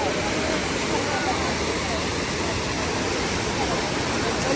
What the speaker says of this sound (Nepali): पुरै पानी आइरहेछ पानीको बाछिट कस्तो पानीले बुकमा छिर्न हानिरहेछ